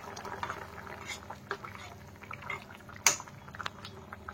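Egg and potato curry with ghee and garam masala bubbles gently in the pot, a close, soft steady simmer with scattered pops and one sharper clink.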